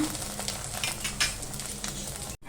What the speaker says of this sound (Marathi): आता आपण हा डोसा ना पलटून घेऊया या बाजूने पण ना छान असा शेकून घेऊया